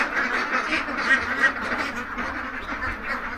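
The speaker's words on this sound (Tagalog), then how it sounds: "yung mga itik." Two-month-old ducklings quacking together on a farm, a continuous cluster of close, overlapping quacks with no voices.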